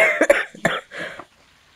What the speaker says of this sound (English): who would be coughing in the microphone if it's not your master right now?